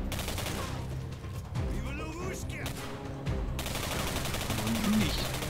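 Rapid gunfire bursts rattle through a firefight in the shooter game Singularity, steady and fairly loud, with brief spoken words in the mix.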